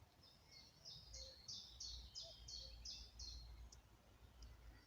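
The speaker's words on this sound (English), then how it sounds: "We've even got a cuckoo calling in the background as if to serenade the arrival of this moth" A cuckoo calls somewhere in the background, a faint bird voice repeating in an even rhythm over soft outdoor ambience, heard alone with no one talking.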